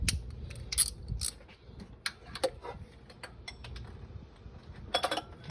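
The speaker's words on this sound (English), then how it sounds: "now let's get that bottom bolt tight, and that's 14 millimeter" A wrench tightens a 14 mm bolt on the alternator bracket of a Honda Pilot, giving quiet metallic ratchet clicks and small taps in short irregular bursts, close up and without speech.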